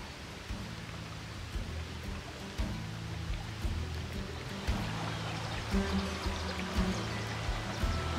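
River water flows steadily beside the bank in a sunny spot, a continuous broadband rush with soft trickling detail, fairly close and unbroken throughout, with faint low background tones underneath.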